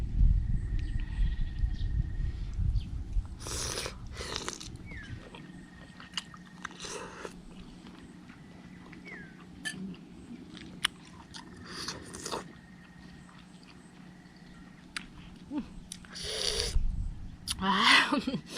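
Someone eating a spicy Thai lime and fresh shrimp salad together with a whole lime, close-up crunchy bites and wet chewing in bursts, with quiet slurping and breathing between them.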